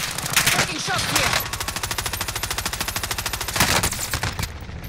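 Rapid automatic gunfire from the video game Call of Duty rattles in a fast, even stream of loud cracks, opening with a few heavier bursts and running nearly continuously throughout.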